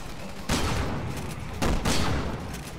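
Gunfire in Resident Evil 6, Leon campaign on PC, during a shotgun section: two loud, close blasts about a second apart, each with a booming tail that rings out before fading.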